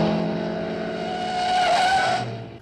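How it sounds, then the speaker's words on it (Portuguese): Car engines roar loudly alongside a rising tire squeal in a film chase scene, the whine swelling and sliding in pitch before fading. "só com o barulho dos motores do carro"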